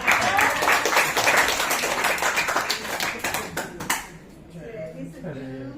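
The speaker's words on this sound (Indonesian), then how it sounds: "Tepuk tangan." Seminar audience clapping briskly, many hands close by in a dense burst that thins out and stops near the four-second mark, followed by quieter room sounds and faint talk.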